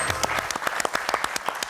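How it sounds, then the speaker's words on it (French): Studio audience clapping on the French TV game show Motus. Individual claps are sharp and distinct at a quick, fairly regular rhythm, suggesting a smaller crowd, and a short low tone sounds at the start. "Ça s'applaudit"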